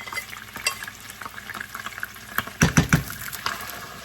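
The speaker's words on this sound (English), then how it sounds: "So I'm just going to go ahead and add my onion mixture." An onion mixture hits hot oil in a pan and fries with a crackling sizzle, building to a burst of louder sputtering pops near the end, close and unaccompanied by voices.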